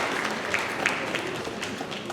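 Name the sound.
audience applause for inductees' families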